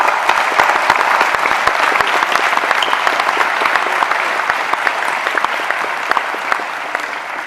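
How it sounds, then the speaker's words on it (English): An audience at a water-cities panel event applauds the panel members, with steady, dense clapping that holds loud and even for the whole stretch. "I'd ask you to give them some applause"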